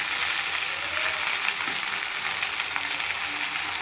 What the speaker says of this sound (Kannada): ಇವಾಗ ಪಾಲಕ್ ಸೊಪ್ಪು ಹಾಕಿ ಚೆನ್ನಾಗಿ ಸ್ವಲ್ಪ ಫ್ರೈ ಮಾಡಬೇಕು